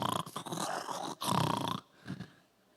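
A voice mimics a princess's loud snoring that sounds like a neighing horse, with long rasping, throaty snorts rendered in two strained bursts and then a softer grunt, close up in a preaching setting.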